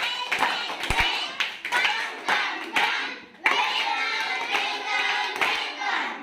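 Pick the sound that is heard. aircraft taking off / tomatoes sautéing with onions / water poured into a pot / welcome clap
welcome clap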